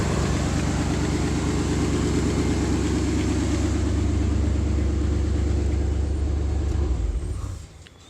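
A 1992 Chevy S10 with a swapped-in TBI 5.7 V8 idles close by with a loud, deep, steady rumble and throb, then cuts off and fades near the end.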